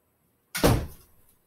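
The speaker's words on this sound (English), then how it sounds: "I said I kicked the door open" A door is kicked open, one sudden heavy thud and bang that sounds close by and then fades quickly to silence.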